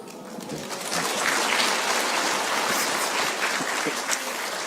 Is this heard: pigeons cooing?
no